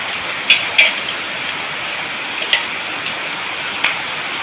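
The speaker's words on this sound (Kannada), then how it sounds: "ಎಂಥ ಮಳೆ ಅಂದರೆ ಜೋರು ಮಳೆ" Heavy rain falling on a house courtyard on a dark day, a steady close hiss of downpour with a few sharp drips and clicks popping out irregularly, no voices.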